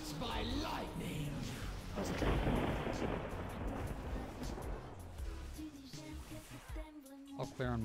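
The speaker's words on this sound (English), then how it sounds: "Marked by lightning." A lightning strike effect in a World of Warcraft +23 Tyrannical Halls of Valor dungeon (patch 10.0.5) sounds as a loud, rumbling thunder-like crash that swells and fades amid combat sound, with a player talking over it.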